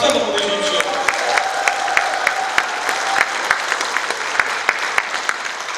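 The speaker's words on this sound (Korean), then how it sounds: "여러분이 박수 한번 보내주십시오" An audience at a party members' lecture breaks into sustained, dense applause, steady clapping from a large crowd filling the room.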